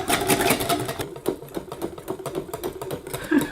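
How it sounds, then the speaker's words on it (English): Rapid, steady scraping and clicking of a kitchen whisk gadget beating in a bowl, a busy continuous rattle at moderate volume throughout. "I'm just gonna whisk now"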